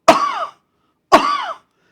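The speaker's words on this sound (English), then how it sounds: "producing a cough." Two sharp, loud, close coughs about a second apart, each a forceful burst that trails off quickly, with silence between them.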